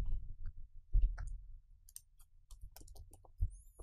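Code is typed on a computer keyboard, sparse irregular key clicks and taps close by, faint and quiet with short pauses between strokes.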